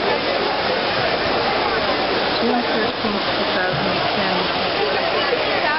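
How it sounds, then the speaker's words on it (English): Trevi Fountain in Rome at night, water splashing and rushing as a steady, loud wash of broadband noise, with a crowd chattering faintly beneath and a voice speaking over it. "the Trevi Fountain at night"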